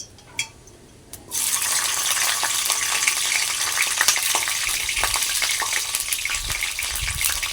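Green chilies dropped into hot oil, a brief quiet pause with a couple of clinks before a loud, steady crackling sizzle bursts up and continues close by without letting up; no one speaks.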